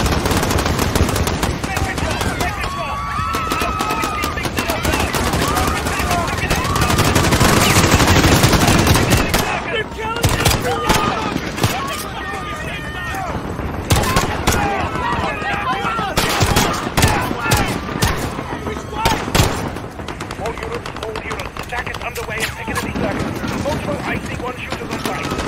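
Automatic gunfire in the Call of Duty Modern Warfare campaign, London mission: loud machine-gun bursts and single shots over layered game noise, continuing in irregular volleys throughout.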